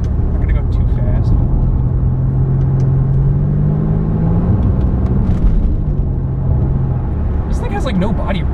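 A 2002 Pontiac Grand Prix GTP takes a corner, its engine a steady, loud low drone with a slowly rising and falling tone throughout, and some brief higher noise near the end.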